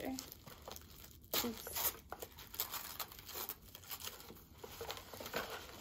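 Paper wrapping printed with the Chanel name is torn and crinkled open from around a Chanel Pearl Crush bag from the 2022 Cruise Collection, a close series of rustles and rips with a quiet voice speaking briefly.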